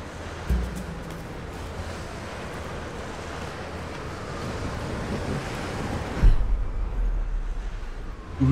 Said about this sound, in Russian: Ветер.